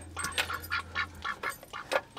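Ducks quacking up close in a quick series of short, nasal calls, about eight in two seconds, with a low hum underneath.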